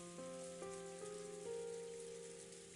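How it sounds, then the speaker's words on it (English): Soft, steady rain from the Umineko When They Cry visual novel hisses quietly and evenly throughout, with gentle sustained musical tones layered beneath it. "In the Golden Land, the quiet rain just kept on falling."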